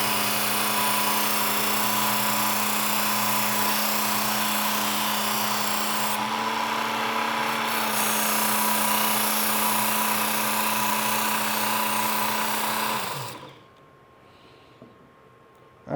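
Work Sharp Ken Onion Edition knife sharpener grinding a knife on its coarse belt, a loud, steady motor whine with a rasping edge for about thirteen seconds before the motor spins down and stops, leaving near silence.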